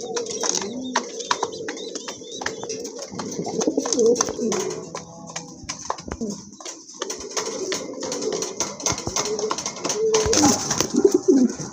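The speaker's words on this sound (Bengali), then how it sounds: "খুবই চমৎকার এক জোড়া কবুতর, অনেক বড় সাইজের এক জোড়া বড় পায়রা" A pair of large black and white pigeons coo repeatedly at close range while people talk nearby.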